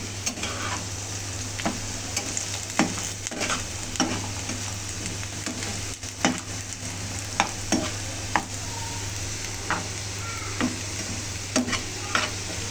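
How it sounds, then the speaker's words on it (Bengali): Potatoes frying in oil for biryani, an even sizzle with a low steady hum beneath and regular sharp clicks of a spatula stirring through the pan. "বিরিয়ানির জন্য আলু ভেজে নিলাম"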